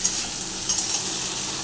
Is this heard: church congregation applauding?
no